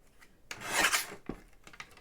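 Paper card stock for a handmade zombie card being trimmed, a close rasping cut that swells for about half a second, followed by a few short scraping and tapping sounds.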